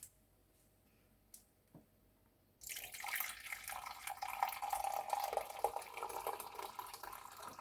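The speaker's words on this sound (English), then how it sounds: "and I will add my water" After a few seconds of quiet with small clicks, water pours steadily into a pot over fennel seeds for tea, a continuous close splashing stream that carries on to the end.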